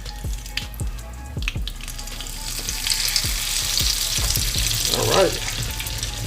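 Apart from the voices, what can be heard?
pork fried rice frying and being flipped in a pan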